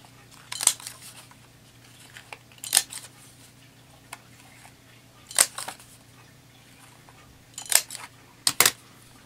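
Corner rounder punch clipping the corners of journaling cards: several crisp metallic clicks, a couple close together near the end, in an otherwise quiet room with a faint hum.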